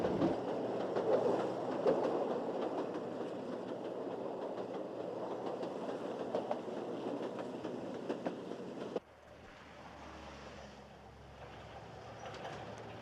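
A train running on the Tua railway line in 1983 rolls past with steady wheel clatter and rumble for about nine seconds, then cuts to a quieter, more distant rolling background; no voices.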